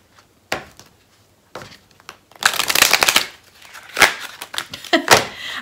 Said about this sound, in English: I don't know why I can shuffle some cards so great and then other cards, I just struggle.